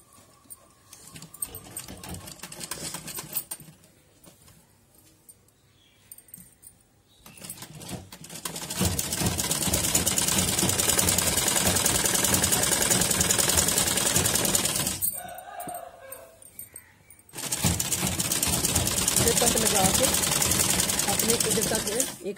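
A sewing machine stitches a shirt sleeve in long steady whirring runs, loud and close, broken by brief pauses where a person talks quietly between bursts.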